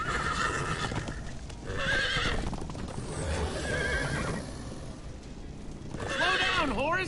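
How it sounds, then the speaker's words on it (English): Horses in the Minecraft Story Mode video game whinny in several loud, wavering bursts over a rapid clip-clop of galloping hooves, with characters talking over the action. "Slow down, horse!"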